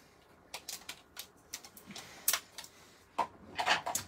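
Scissors cutting a paper bee with small detailed snips, a run of quiet, short crisp cuts in an irregular rhythm, close and alone with no talking.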